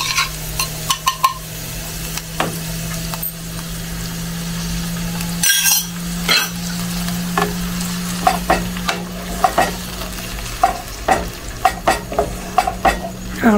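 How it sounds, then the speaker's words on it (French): Onions with a spice mix and a splash of water being stirred in a pan over the heat, a steady sizzle under repeated sharp scraping and clinking strokes, close up and without speech. "Je mélange bien."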